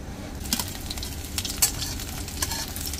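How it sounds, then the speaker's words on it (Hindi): Garlic and ginger fry in a pan with a soft, continuous sizzle, punctuated by sharp metallic clinks and scrapes of a spoon against the pan; nearby and fairly quiet, without speech. "लहसुन और आदि को थोड़ा भूनने में टाइम लगता है, इसलिए उसको पहले डाल देते हैं।"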